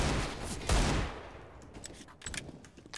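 Gunfire in a first-person shooter video game: a loud burst of rapid shots at the start, a second heavy blast, then scattered quieter shots and clicks in the distance.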